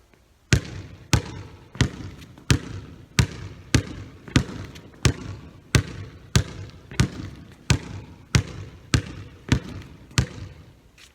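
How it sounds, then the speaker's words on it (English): A basketball is dribbled in a steady, even rhythm of about sixteen sharp, close bounces on a hard court during a between-the-legs drill, with no talking. "We're going to dribble twice on one hand, then step forward and place the ball between our legs using that marker."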